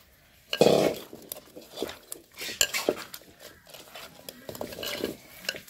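Fish pieces are mixed with spices in a bowl before frying, giving soft wet squelches and stirring scrapes with occasional clinks against the dish, fairly close and uneven.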